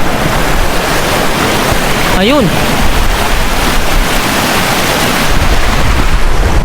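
A meltwater stream in Greenland flows into a clear lake, making a steady, close broadband rush of running water throughout, with a voice speaking briefly partway through.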